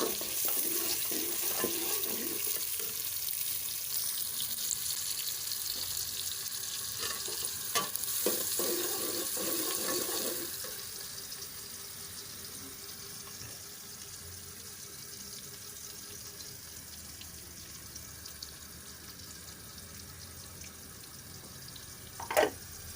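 Chopped onions fry in a pan while browning for a potato and carrot curry, a steady soft sizzle with occasional stirring scrapes, quieter in the second half with a brief clatter near the end.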